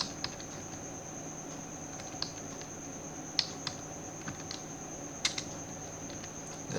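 A URL being typed on a computer keyboard, sparse soft key taps scattered over a steady background hiss, with a few sharper clicks standing out.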